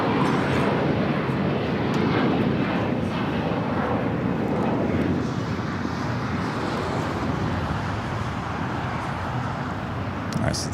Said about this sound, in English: All right, so this is 777 heading to the southeast corner of Tom Bradley.